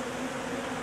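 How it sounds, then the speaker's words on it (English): Guard bees buzz steadily and close during removal of a honeybee colony from a wall void, a dense continuous insect drone with no talk. "Oh, the guard bees are just relentless."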